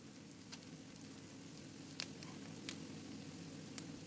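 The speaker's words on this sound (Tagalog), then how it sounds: "Igisa ng isang minuto." Sliced red chili sautéing with eggplant and fish in a pan, giving a soft steady sizzle with a few faint clicks and pops, heard alone at low level.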